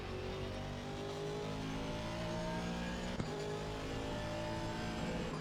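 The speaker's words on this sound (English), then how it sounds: "Brake, coasting, and acceleration out of the turn." A car braking, coasting and then accelerating out of a turn, engine note sustained and fairly faint with harmonics shifting in pitch and a brief click midway, no speech.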